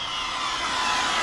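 An Arrma Felony 6S RC car brakes hard, giving a loud, steady high-pitched whine and hiss that holds for the whole brief moment, with no talking.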